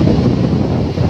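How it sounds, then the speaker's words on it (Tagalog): Strong wind at sea on a fishing boat, a loud, steady low roar buffeting the microphone with no pauses. "Ayan na, lumakas na yung hangin"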